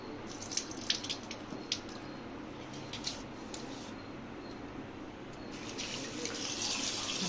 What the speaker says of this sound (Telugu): ఇప్పుడు కొంచెం వాటర్ వేసుకోండి